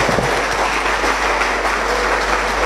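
A dense, even burst of audience clapping fills a crowded gathering in Mumbai, loud and steady for nearly three seconds, with a low hum underneath and no talk over it.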